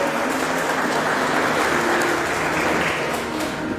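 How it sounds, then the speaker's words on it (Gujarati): Audience applause at a magazine award ceremony, a sustained dense clatter of many hands clapping together, steady and fairly loud throughout. "આપણે સૌ તાળીઓના ગડગડાટથી વધાવી દઈએ."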